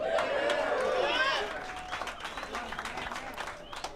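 Applause from a crowd at a professional billiards match swells briefly over mixed voices and whistles, then thins into scattered individual claps as talk continues nearby.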